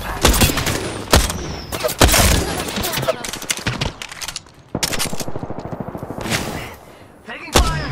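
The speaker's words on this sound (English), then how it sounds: "I'm spotted, taking fire." Rapid automatic gunfire in Apex Legends comes in loud, close bursts with brief gaps between volleys, and a voice speaks faintly underneath.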